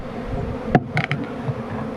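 A honeybee colony hums steadily during a hive inspection, with a few sharper buzzes from individual bees flying close by over the low drone.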